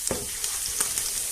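An omelette with garlic, cheese and parsley fries in a pan, a constant close sizzle punctuated by a few soft scraping or tapping touches, without speech.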